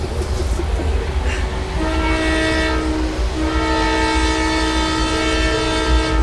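A trial train on the Araria–Galgalia rail line rumbles along, its horn blaring in a long, loud, sustained blast over the steady rolling noise of the cars.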